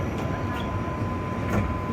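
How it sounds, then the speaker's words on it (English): A train on Line 5 rumbles steadily from inside the car, a continuous low rolling drone with a faint high whine and occasional soft clanks, no voices over it. "Alright, we're on the train."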